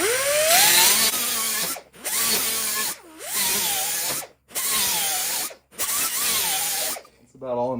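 Long, controlled 45-degree bevel strokes with 36-grit abrasive on car metalwork give a rough, rising grinding sound. Five or six strokes follow one another, separated by short pauses, and each one is loud and close.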